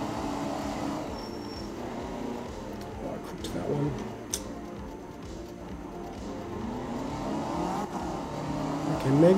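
Rally car engine in the video game Art of Rally, a steady close drone with brief throttle swells and a rising rev near the end, all continuous with no clear pauses.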